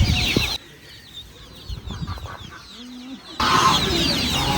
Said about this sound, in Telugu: రంగు కోడి పిల్లలు.